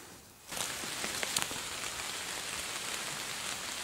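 Rain falling steadily on an overnight camp, starting abruptly after a short quiet moment and then holding as a dense, even patter with scattered sharper drops and no talk.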